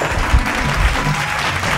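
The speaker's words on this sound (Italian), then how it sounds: "Facciamo un applauso a Francesco De Molfetta!" Loud, close audience applause at an Italian comedy show as a performer is welcomed on stage, a dense burst of clapping with some low thumps.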